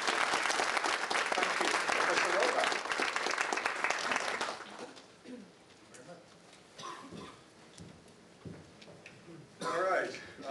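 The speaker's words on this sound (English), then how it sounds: "So let's give everybody who's pitched in a round of applause." An audience applauds the partners at a university entrepreneurship pitch competition kick-off, loud dense clapping for about four seconds that then stops, followed by someone speaking into a microphone.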